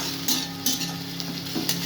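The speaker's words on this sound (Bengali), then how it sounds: "আবার পেঁয়াজ আদা রসুন ভালো করে ভেজবো" Onion, ginger and garlic paste fry in a pan with a loud, continuous sizzle, punctuated by regular scraping strokes of a spoon stirring through it.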